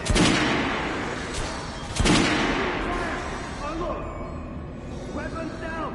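Gunshots from a weapon on a practice range in Metro Last Light Redux, two loud sharp reports about two seconds apart, each followed by a long ringing decay, with quieter game sounds trailing after.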